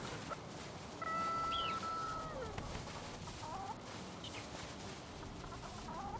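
Chickens on a Valheim chicken farm give a few scattered clucks and short calls over a steady, noisy game background, fairly faint and spaced out.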